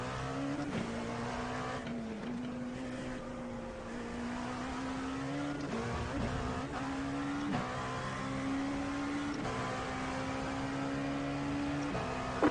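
A race car engine in a Sebring racing video game drones steadily, pitch rising and dropping sharply as gears shift at regular intervals, loud and continuous with no talking over it.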